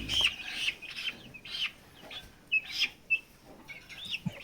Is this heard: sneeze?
no